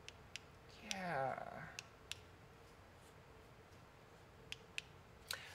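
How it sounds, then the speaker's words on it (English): 3D-printed plastic enclosure parts for a microscope scraping together with interlocking layer lines, giving sparse sharp clicks spread across the moment, quiet and close, with a brief rubbing swell near the start. "The clicking that sounds just like a tactile switch is really just 3D prints scraping against each other"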